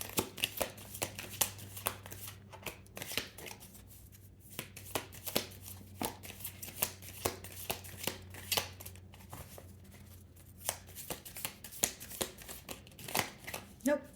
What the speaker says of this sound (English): So I shuffled 3 times